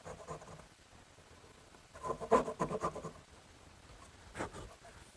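A small dovetail saw cuts tenon shoulders by hand in a wood shop, giving quiet, rhythmic rasping strokes, with a clearer burst of sawing in the middle and faint scratching around it.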